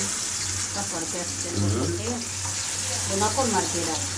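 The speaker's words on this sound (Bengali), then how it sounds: "এখন তেলের ভিতরে ছেড়া দিতেছে ভাজি করবে আগে" Pabda fish, already marinated, sizzles and hisses in hot frying oil, with a steady close crackle, a low hum underneath and a faint voice nearby.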